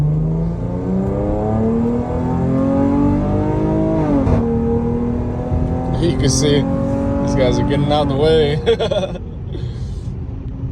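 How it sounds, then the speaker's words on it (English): A 2022 Dodge Challenger SXT Plus with a Borla ATAK exhaust drones loudly up close, its engine note climbing and settling through several revs while someone talks over it. "because they hear this exhaust"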